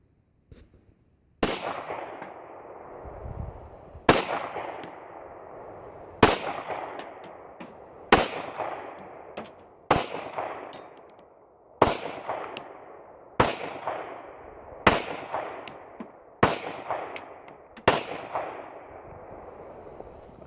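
Ten loud, sharp gunshots from a handgun fired as a 10-round control group at a range, spaced roughly two seconds apart, each a hard crack with a short ringing decay and no talk between them.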